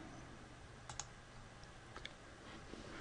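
A computer mouse clicks softly to subscribe to a sensor data stream: two or three faint, isolated clicks spaced about a second apart over a quiet background hum.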